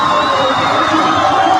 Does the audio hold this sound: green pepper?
no